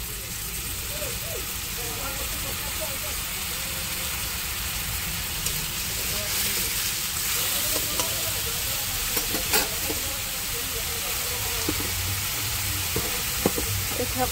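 Onion and garlic paste frying in a pan for a tengra fish curry, a soft continuous sizzle with occasional stirring clicks, fairly quiet throughout.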